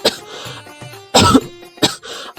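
A person coughs after water goes down the wrong way, a few sharp, close, loud coughs and throat-clearing bursts in quick succession, with no talk.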